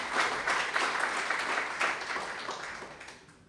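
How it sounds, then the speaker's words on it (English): An audience at a KwaZulu-Natal Growth Coalition workshop breaks into a dense round of clapping that fills the room, then gradually thins and fades. "You truly deserve a big round of applause."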